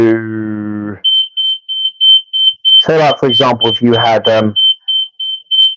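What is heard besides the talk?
alarm beeping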